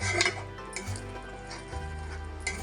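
Mushroom curry with fresh coriander is stirred in a pan, a spoon giving quiet clinks and scrapes against the metal under a steady background hum, brief and close.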